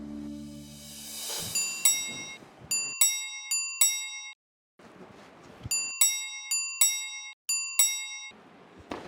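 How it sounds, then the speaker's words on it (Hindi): A household doorbell rings repeatedly, bright electronic chimes in quick ding-dong bursts, several rings grouped in a steady rhythm with short silent gaps between, fairly clear and close with a brief noisy sound at the start. "कब से घंटी बज रही है, जाके देखो कौन है"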